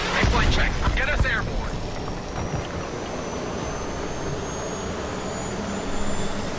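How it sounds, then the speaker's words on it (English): A helicopter lifts off in the Homefront video game, a loud steady engine and rotor roar that holds throughout, with brief speech near the start. "Get me in the chopper."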